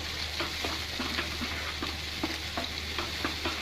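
Garlic and onion paste sizzles in hot oil while a ladle stirs it in repeated scraping strokes, a steady close fry with rhythmic clinks and scrapes, for a spiced jackfruit curry over medium heat, with no talking.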